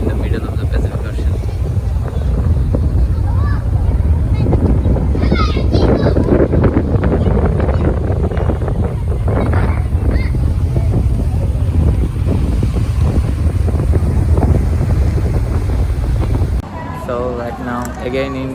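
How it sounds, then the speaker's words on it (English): On a windy Pacific crossing toward Yokohama, Japan, a ferry produces a constant loud roar of wind and engine noise with water wash, broken by occasional voices, then cutting to a quieter scene at the end. "this ferry is heading towards Yokohama Prefecture of Japan"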